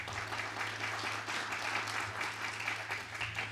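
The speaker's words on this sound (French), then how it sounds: "La chef d'orchestre, oui, je crois que vous pouvez l'applaudir." Steady, dense applause from a congress audience for a conductor, sustained clapping throughout with a low hum underneath.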